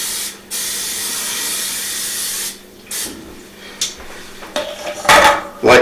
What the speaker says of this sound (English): So I'm just going to spray a non-stick coating.